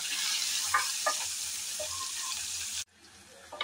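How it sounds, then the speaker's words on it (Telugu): Large onion pieces frying in oil with salt in a home kitchen pan for mushroom curry, a steady close hiss with a few soft stirring clicks, briefly cut off near the end before the sizzle resumes. "ఇలా ఆయిల్ వేసుకుని ఆయిల్లో ఎర్రగడ్డలు పెద్ద ముక్కలుగానే వేసుకోవాలి."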